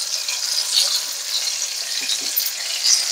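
Ginger-garlic paste and spices frying in hot oil for a Lote fish dish, a steady close sizzle with continuous crackling and faint stirring, no talking.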